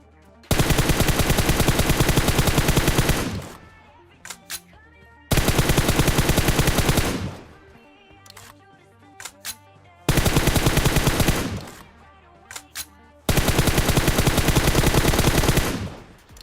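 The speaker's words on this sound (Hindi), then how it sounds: "मैं खिड़कियों पर बहुत ही तगड़ा प्री फायर इसलिए दे रहा था" Bursts of M4 rifle fire in PUBG Mobile, sprayed at house windows as pre-fire: four long, loud sustained volleys of rapid automatic shots, each lasting about three seconds, separated by short gaps with a few isolated single shots.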